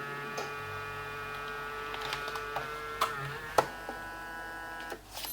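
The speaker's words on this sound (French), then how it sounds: "On entend que l'imprimante lance le process," Instax photo printer starting to print, a quiet steady electrical hum with a thin whine, scattered soft ticks and clicks, and a louder mechanical clack near the end as the print starts to come out, close and without voices.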